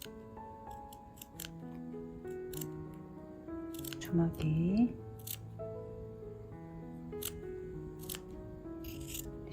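Fabric scissors snip notches into the thin seam allowance around a blouse neckline, a run of quick crisp clicks repeated closely while someone talks through the steps over them.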